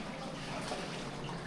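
Water flowing steadily through Hezekiah's ancient rock-cut tunnel, a soft continuous trickling rush at low level with no break, heard close around the listener.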